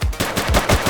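Automatic gunfire in the police game The Precinct, a loud, close burst of about five rapid shots in quick rhythm.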